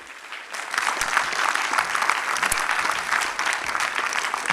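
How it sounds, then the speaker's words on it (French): An audience at a parenting conference claps to welcome a sociology speaker, applause swelling quickly after a quiet start and continuing steadily, fairly close and full. "On peut l'applaudir."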